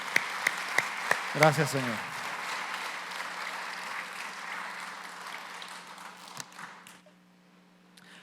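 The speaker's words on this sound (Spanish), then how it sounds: "Dale un aplauso al Señor." A church congregation claps briefly, a few sharp claps swelling into sustained applause under a voice at a Spanish-language worship conference, then fading out.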